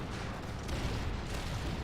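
Cannon artillery fire in a Total War battle, a dense, steady rumble of distant booms and battle noise that runs through the whole clip at a fairly quiet level.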